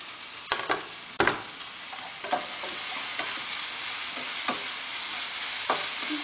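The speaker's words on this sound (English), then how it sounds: "This is all about a stir fry, simple stir fry, and you add noodles at the end" Choy sum stems and leaves stir-fry in a pan with a steady close sizzle, punctuated by a few sharp utensil knocks and scrapes as they are tossed.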